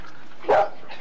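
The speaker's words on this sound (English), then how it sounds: "Hey, let's bark constantly." A single sharp dog bark rings out at close range, one short burst over a quiet background.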